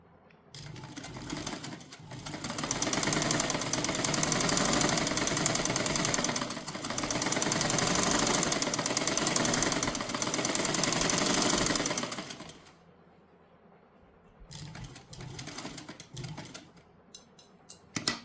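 A sewing machine stitches a palazzo pant in two long, loud, rapid mechanical runs, then pauses before shorter bursts of stitching, with no voices.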